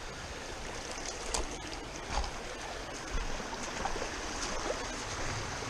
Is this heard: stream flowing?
yes